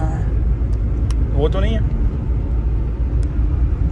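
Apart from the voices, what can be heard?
car engine rumbling, BMW 520D to M5 conversion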